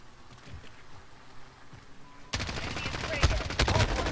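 Rapid automatic gunfire from Call of Duty: Modern Warfare gameplay bursts in halfway through, loud and dense after a quieter opening, with a voice faintly underneath.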